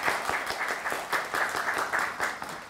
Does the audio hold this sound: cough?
no